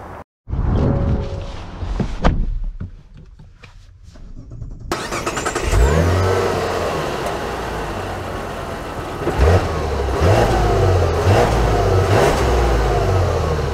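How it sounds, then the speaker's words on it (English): A 2024 Mazda CX-90 SUV starts up and pulls away, its engine rising and settling through several swells of revving under steady cabin road noise, close and fairly loud with no talking. "Let's see how the new CX-90 drives."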